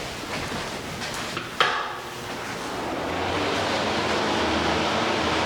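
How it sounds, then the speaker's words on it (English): A bathroom exhaust fan in a newly built house switches on with a click and settles into a steady, broad whooshing hum that holds evenly to the end. "Bath fan and shower light"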